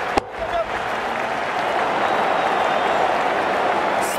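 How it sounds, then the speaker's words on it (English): Cricket stadium crowd at a World Cup match between Bangladesh and Sri Lanka, a steady wash of broad cheering and applause that holds for several seconds after a sharp opening hit, with no talk over it. "The crowd's on their feet, probably hoping they can catch a six."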